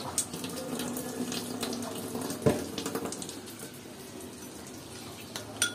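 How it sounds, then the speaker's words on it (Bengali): Water pours steadily into a cooking pan while an egg dish without other ingredients is being made, a continuous splashing flow with a single sharp clink midway, close and moderately loud. "এখন এখানে একটু পানি দিয়ে দিচ্ছি।"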